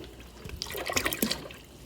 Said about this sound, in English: we're gonna be adding low-fat milk